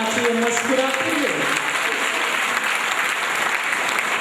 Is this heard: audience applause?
yes